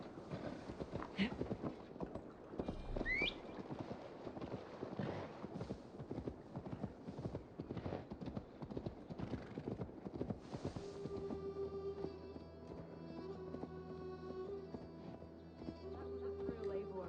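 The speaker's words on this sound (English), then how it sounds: "Now to deliver Magni his horse." Rapid horse hooves clip-clop steadily on a hard surface amid busy sounds in the video game Assassin's Creed Valhalla, followed by a calmer stretch with a sustained musical tone.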